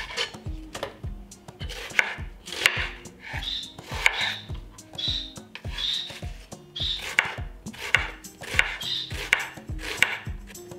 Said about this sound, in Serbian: Dok čekam da voda proključa, iseckaću jedan luk.